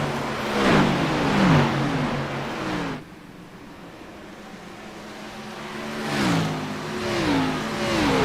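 A race car engine in the iRacing video game at Homestead roars past in revving bursts: a loud pass early, a quieter lull, then more rising and falling engine drone toward the end, with no talk.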